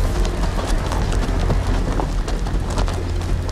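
Hooves of a horse running in a Game of Thrones video game clatter in a steady, fast rhythm, mixed with a dense, noisy wash that sounds like rain, with no talk.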